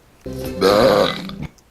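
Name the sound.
cartoon warthog Pumbaa burping in The Lion King music video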